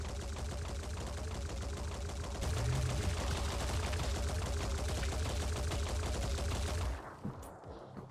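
Rapid long-range Rage Burst gunfire in Phoenix Point, a dense, loud stream of shots rattling steadily for about seven seconds, then cutting off into a quieter tail.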